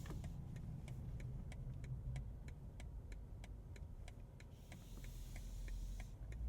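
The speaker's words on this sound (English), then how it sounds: "How about that turn signal?" A 2023 BMW M850i Gran Coupe's turn signal ticks in a steady, even rhythm over a low engine hum inside the cabin, clear and fairly quiet.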